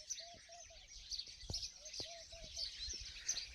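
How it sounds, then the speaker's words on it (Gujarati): Small birds chirp outdoors on a farm in the afternoon, with repeated short whistled calls and sharp tweets scattered over a soft, distant background hiss. The calls are faint and come from some distance, with no voices. "અહીંયા હું આવું એટલે પક્ષીઓનો કલરવ સંભળાય"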